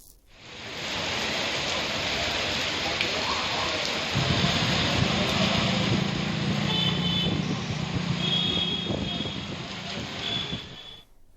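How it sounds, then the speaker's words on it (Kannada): Rain falls across the city in a steady hiss, joined midway by a low rumbling vehicle or traffic drone and a few faint high tones, continuous throughout. "ಮಳೆ ಭಾಳ ದಿನ ಆದಮೇಲೆ ಬಂದಾಗ ಸಹಜ"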